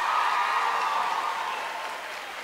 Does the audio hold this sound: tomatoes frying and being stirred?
no